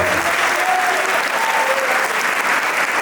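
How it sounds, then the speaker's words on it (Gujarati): Audience applause at a Surat Gurukul dayro folk storytelling event, a dense, sustained clapping from a crowd that holds steady and loud for the whole stretch. "એકવાર જોરદાર તાળીઓ"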